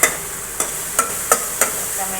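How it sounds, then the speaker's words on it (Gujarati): Tomatoes, chillies, ginger-garlic paste and curry leaves cook in a pan for dal, a low continuous sizzle broken by five evenly spaced, close scraping stirs of a spoon. "હવે આને આપણે સારી રીતે ચડાવી લઈશું."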